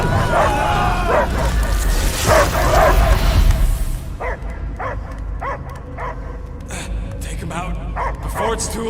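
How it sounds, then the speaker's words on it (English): A dog barks and yips repeatedly in an animated space adventure, the short sharp barks coming in a quick series amid dialogue and a busy soundtrack. "I hear only barking."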